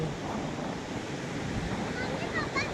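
Sea waves washing over the beach at Dwarka, a continuous broad rushing wash mixed with wind on the microphone, steady and moderately faint.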